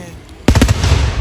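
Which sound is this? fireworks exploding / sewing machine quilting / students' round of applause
fireworks exploding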